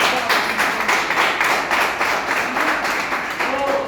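An audience applauding at a motivational seminar: steady, dense clapping from many hands, fairly close, with a faint voice briefly rising near the end.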